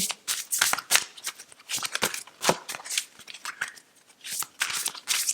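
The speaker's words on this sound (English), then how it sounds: "But hard to shuffle these ones, Taurus. Large format." Rapid papery riffling and slapping of large cards being shuffled, close and fairly loud, in irregular bursts with brief pauses, no talking.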